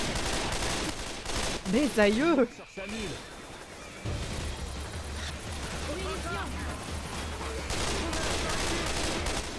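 Grenade launcher explosions and gunfire in the co-op zombie shooter Left 4 Dead 2 sound as repeated rumbling blasts under excited French-speaking players chatting, with some distorted voice bursts.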